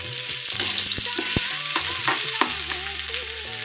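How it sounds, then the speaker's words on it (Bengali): Potatoes stirred in hot oil in a pan, a steady close sizzle with scraping stirs and clinks of the spoon against the metal as the pieces are turned. "আমি এমনি দিয়ে দিলাম আলুগুলো। আগে আলুগুলো একটু নেড়ে নেব"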